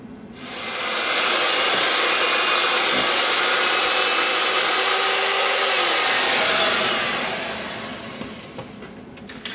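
An electric mixer whirs through chocolate chip cookie dough after vanilla is added, a loud steady motor hum that starts abruptly, holds for several seconds and then slowly winds down.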